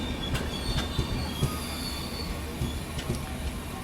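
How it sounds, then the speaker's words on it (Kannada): A superfast express passenger train with twelve coaches rolls past close by on rails, a loud continuous roar with rhythmic clicks from the wheels over rail joints and high-pitched squeals laid over it, without any voices. "ಭಾಳ ಅಂದ್ರೆ ಭಾಳ ಚಿಕ್ಕ ಟ್ರೈನ್ ರೀ ಇದು."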